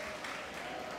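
A church congregation claps during a Sunday worship service, a dense, steady wash of many hands clapping at once, sustained and fairly faint throughout.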